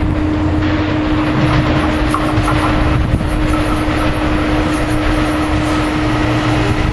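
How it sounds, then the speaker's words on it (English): A SEPTA Silverliner 5 commuter train pulls into Bryn Mawr station during rush hour, a steady loud rumble of rail cars with a sustained tonal hum and faint clickety-clack throughout, near and continuous. "Silverliner 5s coming in."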